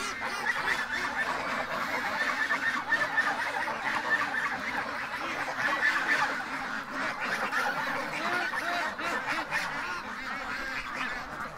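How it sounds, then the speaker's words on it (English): A large flock of ducks quacking continuously, a dense overlapping chorus of calls at steady volume throughout, with no talking. "Oh, I hear you, ducks."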